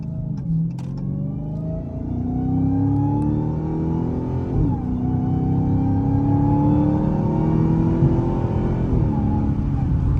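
A Dodge Challenger Hellcat V8, heard from inside the car, revving and accelerating with a rising, loud engine note that climbs through the gears, dips briefly at each shift and then climbs again.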